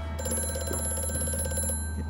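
An old-fashioned telephone rings in the horror game Amnesia: A Machine for Pigs, a rapid, bright, trilling bell that sounds for about a second and a half over a constant low mechanical drone.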